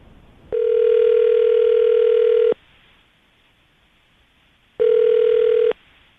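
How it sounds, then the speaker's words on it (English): A telephone dial tone for an outgoing call to a morning radio show guest, heard as two loud steady tone bursts, about two seconds then a shorter one, separated by a quiet gap, with no voices. "we're going to call her right now, see if we can get her on the phone"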